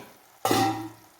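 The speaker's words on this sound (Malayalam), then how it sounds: "നമുക്ക് വറുത്തെടുക്കാം രണ്ട് മൂന്ന് കരുവേപ്പിലയും കൂടി ഇടുന്നുണ്ട്" Curry leaves dropped into hot oil in a new clay pot burst into a loud sudden sizzle that holds steady for about half a second, then eases to a softer crackle.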